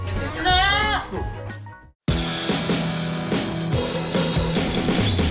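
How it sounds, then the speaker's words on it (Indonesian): Thirsty baby goats give a few loud, wavering bleats close by. A louder passage of voices or music follows after a brief silence. "Tanda-tanda anak kambing haus bisa terlihat dari perilakunya yang mulai gelisah, berdiri, berisik, dan sering mengembik."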